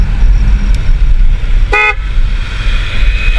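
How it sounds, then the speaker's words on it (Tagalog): A car horn gives one short accidental honk, pressed in place of the hazard-light button while parked in a dim spot, a brief burst over steady low road and engine rumble. "Imbis na pipindutin ko yung hazard, napindot ko yung busina."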